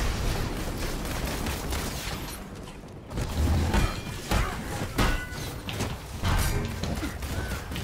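Gunfire in the video game Marvel's Avengers, a busy battle mix of sharp repeated shots and impacts sounding continuously at loud level, with a brief lull partway through.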